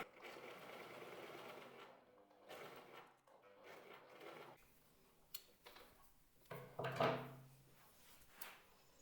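A sewing machine stitches the seam of a lingerie piece, running in a steady close whir for several seconds before stopping, followed by a few clunks and knocks as the fabric is handled.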